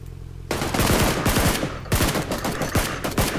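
Rapid automatic gunfire in the shooter game PUBG Lite. Loud, dense bursts of shots begin abruptly after a quiet moment and carry on almost without a break, with no talking.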